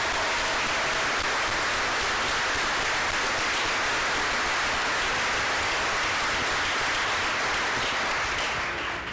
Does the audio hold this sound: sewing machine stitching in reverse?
no